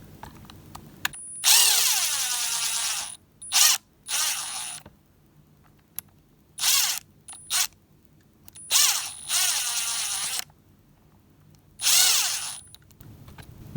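A power drill with a 5/32 bit whirs in repeated bursts of a few seconds each, with high whining motor and grinding, separated by quiet pauses.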